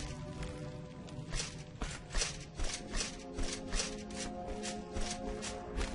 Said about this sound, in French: J'entends des bruits de pas.